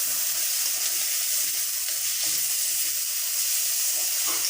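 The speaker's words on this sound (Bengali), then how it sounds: "আমি আদা বাটা দিয়ে দিচ্ছি। ভালো করে এগুলো একটু ভেজে নিয়ে" Garlic and ginger paste frying in a pan, a steady, dense sizzle with a constant hiss throughout and faint stirring scrapes, heard close and without any voices.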